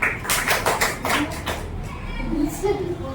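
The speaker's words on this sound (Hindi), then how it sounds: "अलीशा के लिए तालियां हो जाए।" A small group applauds a child in a school setting with a quick burst of sharp, close claps that fades after about a second and a half, leaving faint voices behind.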